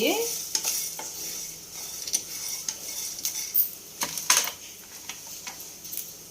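Chicken frying in a pan for chicken fry biryani, a continuous sizzle under repeated clinks and scrapes of a metal spatula stirring the pieces, close and without talk.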